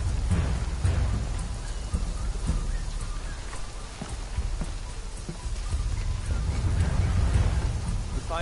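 Steady rain pours down throughout in the video game PUBG, with low rumbles of thunder rolling underneath and a few sharper cracks standing out.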